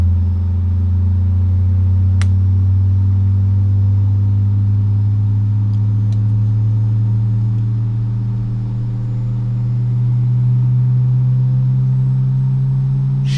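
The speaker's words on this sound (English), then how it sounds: "Listen to those engines, friends." Aerosoft CRJ jet engines spool at takeoff power in a flight simulator departing Salt Lake City, a loud, sustained droning hum with steady tonal whine that rises slightly in pitch over several seconds.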